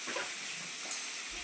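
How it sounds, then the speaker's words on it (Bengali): Fish frying in a hot pan gives a dense, close, steady sizzle and crackle throughout, with no talking. "এবার আমি মাছগুলোকে ভালো করে ভেজে নিই"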